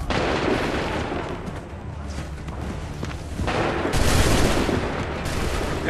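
Musket volleys from a firing squad in the video game Assassin's Creed III, at the Lexington and Concord mission, ring out as loud, sustained gunfire with booming blasts under continuous battle noise.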